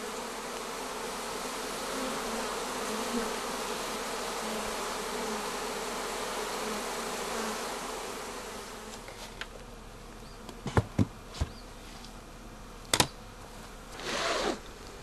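Honey bees buzz steadily at a hive for most of the stretch, a dense close hum that thins out near the end, where a few sharp knocks and rustles break in.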